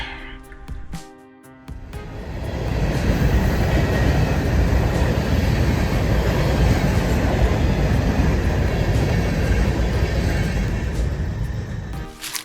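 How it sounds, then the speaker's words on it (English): An empty grain train on the KCS railroad near Wicks and Heavener rumbles past loud and close, a broad steady roar of wheels and cars that swells in after a short lead-in and holds for the rest of the stretch, with no talking. "first train I caught was an empty grain train at Wicks with a bell on the point"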